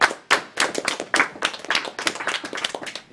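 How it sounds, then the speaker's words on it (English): Lively clapping from a small group at the Awesome Games Done Quick speedrun event, a quick uneven patter of hand claps close to the microphone, with no talking. "round of applause for Worcester for winning the fight"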